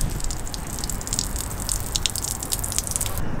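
Water spraying from a DIY air-pressure solar shower mounted on a vehicle, a steady close hiss of spray with dripping and splashing throughout, no talking.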